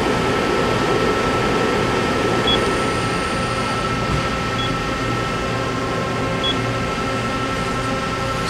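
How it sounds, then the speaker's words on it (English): Mori Seiki NL2500SY CNC lathe from 2010, main spindle running at 1000 RPM; a steady, even machine hum with faint high whine and small periodic ticks, constant and close with no talking. "main spindle running at 1000 RPM"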